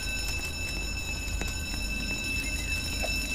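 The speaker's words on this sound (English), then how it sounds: "He just joined a robbery, so the alarm will sound." A bank robbery alarm in the Roblox game Jailbreak rings as a steady, loud high-pitched tone over dense game noise, with faint clicks scattered through it.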